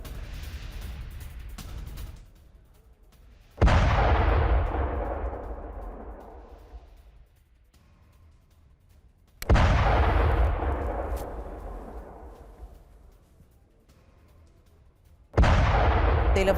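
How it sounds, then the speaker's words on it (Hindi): Rocket explosions strike a residential area of Tel Aviv: three loud, sharp booms spaced about six seconds apart, each followed by a long rumbling decay, with no voices. "रिहायशी इलाके में रॉकेट गिरा। रॉकेट हमले में कैसे बाल बाल बचे लोग"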